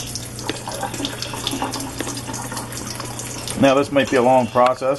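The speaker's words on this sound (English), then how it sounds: "we're going to attempt to empty the water out through this makeshift sieve" Water from boiled potatoes runs and splashes steadily through a makeshift sieve into a sink, with someone talking over the stream near the end.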